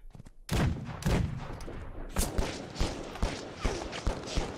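Gunfire in the video game GRIT, a burst of sharp shots followed by a series of spaced single reports with brief gaps, fairly quiet overall.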